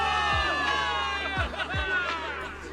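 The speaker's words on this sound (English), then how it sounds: "Cheers rise up from the guys." A crowd of soldiers cheers for victory in the video game Zenless Zone Zero, a dense mass of voices shouting together over game music, with a few low thuds punctuating the roar.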